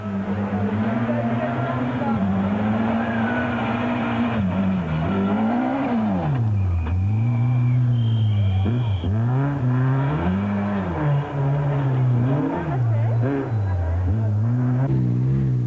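A rally car at the Great North Rally, 2004, is driven hard through corners. The engine revs rise and fall repeatedly as it is worked up and down through the gears, loud and close, with a commentator talking over it.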